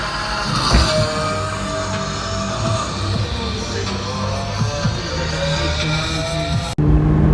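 A Porsche 918 Spyder engine rumbles and revs loudly with a throaty exhaust note, close up, running steadily before cutting off sharply near the end.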